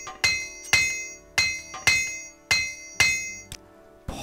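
A repair hammer in the video game Morrowind strikes metal in a steady series of about eight ringing, clinking blows, each bright hit decaying before the next, close and loud with no talk.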